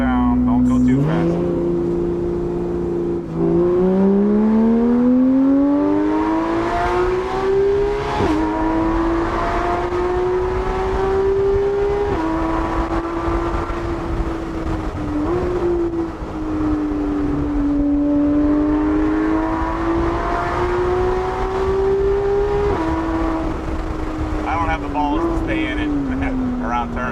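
A 991.1 Porsche GT3 RS engine revs high and loud on Smoky Mountains roads, holding a sustained roar that rises and falls through gear changes, close and continuous.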